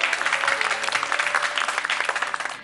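A dense burst of applause rises as the youngest members of a family are announced on stage at a home celebration, steady clapping filling the whole moment with no talk over it.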